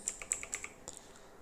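Quick, light keystrokes on a computer keyboard, about eight close taps in just over a second, typing a search on a Windows 10 machine.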